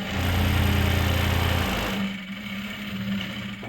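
Sewing machine stitching lehenga panels at a medium stitch length, a steady loud motor whir running for about two seconds before stopping, followed by quieter hum and handling.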